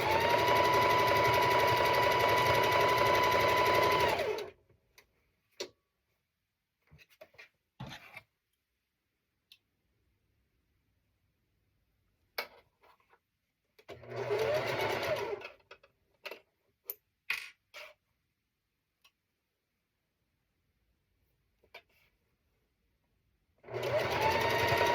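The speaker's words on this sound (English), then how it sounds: "let me take that to the machine real quick. Sew that up." A sewing machine stitching quilt pieces runs in fast, steady, close bursts, one at the start, one midway and one at the end, with quiet gaps of fabric handling, clicks and small taps between.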